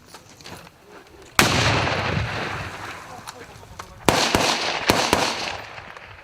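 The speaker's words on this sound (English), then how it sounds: "He's about to throw a grenade." A grenade blast at a live-fire military training range, a sudden loud broadband boom followed by a long decaying rumble, then a second sharp detonation with crackling reports; faint voices and ambient noise before it.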